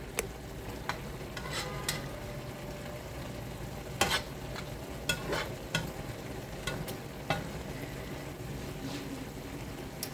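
Brown stew fish cooks in a pan, a steady close sizzle and bubbling with occasional clinks and scrapes of stirring.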